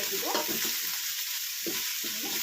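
Chopped fenugreek and drumstick greens fry in hot oil with a steady, close sizzle, broken by occasional stirring scrapes through the pan.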